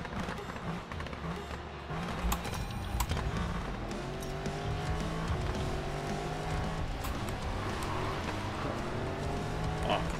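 A modified Mercedes SL63 drifts on a Shanghai track in a racing video game, its engine roaring steadily with shifting revs and tire noise layered over continuous game sound, no talking.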